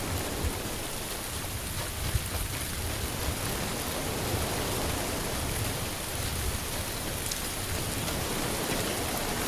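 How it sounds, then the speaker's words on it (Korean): Steady, dense rain falls on surfaces during a PUBG match, a constant hiss that fills the whole stretch without pause and with no voices. "이거 비가 와가지고 지금 발소리가 잘 안 들리기 때문에"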